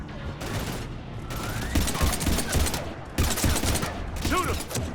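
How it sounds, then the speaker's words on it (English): Rapid bursts of gunfire from the video game Mass Effect 3 crackle through a heavy firefight, loud and dense with a few short pauses, while voices shout briefly over the shots. "We're taking heavy fire."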